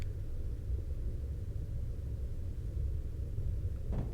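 Steady low rumble of track noise inside a Class 166 DMU in Train Simulator 2019, with no engine sound, continuous and fairly loud throughout, a brief brighter clatter near the end.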